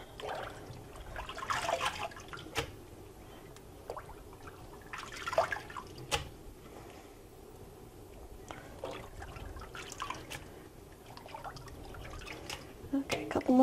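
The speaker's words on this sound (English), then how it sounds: "put it back in my colander so it can drain a little bit." Soft drips and trickles of water fall intermittently from spinach draining in a colander, close and quiet, with faint handling noises and occasional light clatter.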